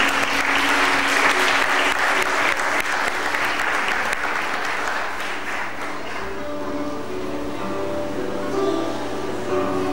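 A church congregation applauds, with sustained loud clapping that thins out after a few seconds as a low hum and faint tones take over.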